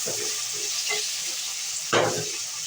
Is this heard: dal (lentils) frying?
yes